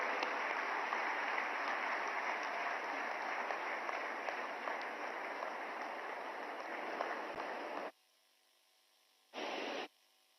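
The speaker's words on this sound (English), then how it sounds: "with your applause, I invite Honorable Prime Minister Modi to address this august gathering" Applause from an august gathering welcomes Prime Minister Modi at a foundation-stone ceremony for the WHO Centre for Traditional Medicine in Gujarat, a broad, steady roar of clapping that cuts off abruptly, with a brief burst returning after a short silence.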